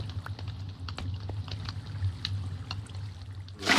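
Water from a bucket splashes out in a Minecraft world, a short liquid burst near the end over a low steady ambient hum and scattered faint clicks.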